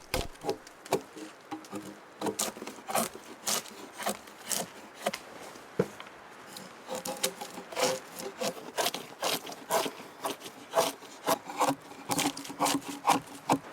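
Bark being peeled by hand from a natural log while building an off-grid cabin: a steady run of rough rasping, scraping strokes with irregular rhythm, close and moderately loud, with no talking.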